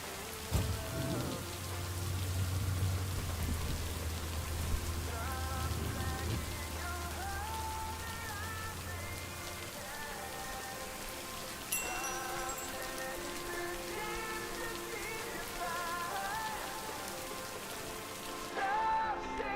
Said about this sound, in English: Now let's see if it will keep raining cats and dogs.